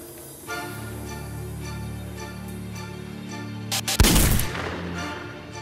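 Single loud gunshot in a Turkish TV drama, a sharp boom near the end that follows a stretch of sustained dramatic music.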